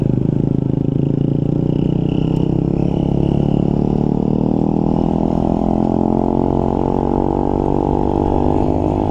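A motorcycle engine runs steadily up close, its pitch rising slowly as it revs through a gear change, loud and continuous with no talk.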